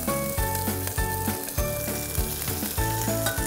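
Steady loud sizzling of tomato paste and chili pepper frying in a pan, with a spoon scraping and stirring in regular strokes through it.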